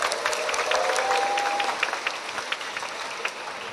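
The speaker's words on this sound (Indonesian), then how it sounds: "Tepuk tangan dulu dong buat Subang." Audience applause for Subang at a school basketball all-star event: a dense, steady burst of clapping from a crowd that holds strong for a few seconds, with a faint whistle-like tone early on, then thins slightly toward the end.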